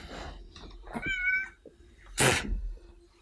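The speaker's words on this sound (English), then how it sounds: "so Watson is is the cat" A domestic cat meows twice, a short tonal call early and then a louder, breathier cry, close by with quiet room noise between.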